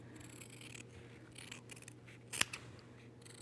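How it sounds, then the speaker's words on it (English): Scissors trim away a fabric seam allowance while sewing a mitered corner, giving one crisp, close snip under faint background hum. "Now we need to trim away this seam allowance"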